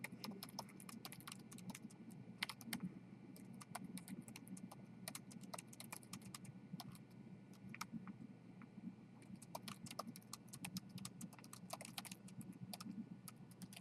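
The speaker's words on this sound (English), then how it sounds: "anything I type in here will show up in the browser" Typing on a computer keyboard while writing a minimal HTML5 document: rapid, irregular key clicks close by and soft, in bursts with short pauses, over a faint steady hum.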